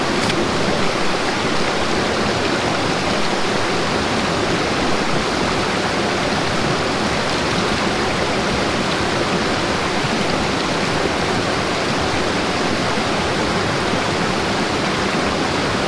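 A mountain stream in the Sespe Wilderness rushes steadily in winter, a loud, dense, unbroken wash of flowing water close by with no voices.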